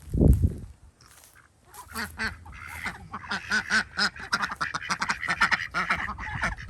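Ducks quack repeatedly in a lively outdoor food forest, a dense run of honking calls that builds from scattered quacks into a near-continuous chorus, fairly close and loud, preceded by a brief thump.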